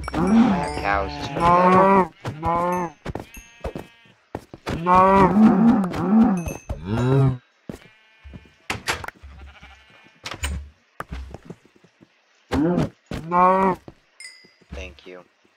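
Minecraft cows mooing, several close repeated moos in bursts with quiet gaps, interspersed with short clicks and footsteps-like taps.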